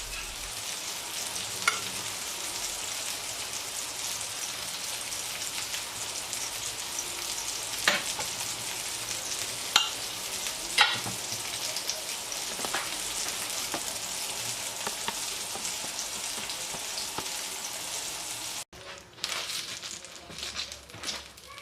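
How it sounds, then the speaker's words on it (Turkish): Peppers and tomatoes fry steadily in a hot pan, a continuous dense sizzle with occasional louder pops and spatters, close by. "Tavamıza biber ve domatesleri de aynı şekilde kızartalım."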